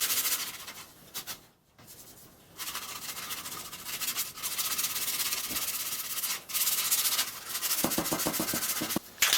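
Bondo filler on a Ford 120 garden tractor grill is sanded by hand in long, continuous rasping passes, close and steady with a few short pauses and no talk.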